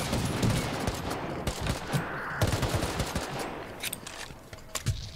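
Gunfire in the survival game Rust at a missile silo: rapid bursts of automatic shots and scattered single cracks crowd a few seconds, sounding moderately distant and sharp.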